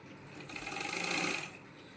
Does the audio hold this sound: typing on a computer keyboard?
no